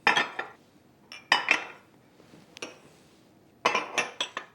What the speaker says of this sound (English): Then I need to arrange 6 8-ounce ramekins in a baking dish.